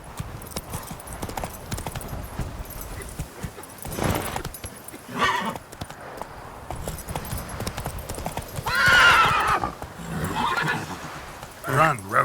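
Roach, the horse in The Witcher 3, neighs and whinnies several times over steady galloping hoofbeats, with the horse's calls growing louder toward the end amid game sound.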